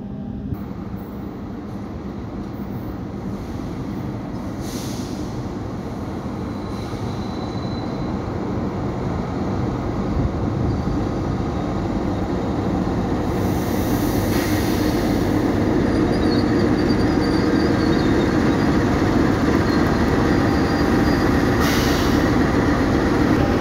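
The Supas local train from Pasuruan to Surabaya Kota, hauled by a CC206 locomotive, rolls past in a long, steady rumble of wheels on rails that slowly swells louder, with faint squeals and clatter on top.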